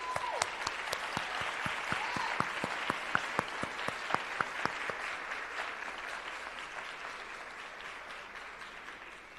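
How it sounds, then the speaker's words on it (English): An audience at a memorial scholarship awards event claps together, a dense burst of applause that stays lively for several seconds before gradually thinning and fading. "let us stand and show our appreciation to this exceptional team for their unwavering commitment to our future"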